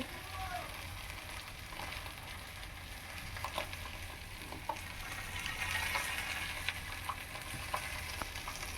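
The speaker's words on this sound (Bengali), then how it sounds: "এখানে বেগুন ভাজা হচ্ছে" Eggplant frying in a pan of oil with onion for a fish dish gives a steady close sizzle and hiss, broken by a few faint clicks and taps throughout.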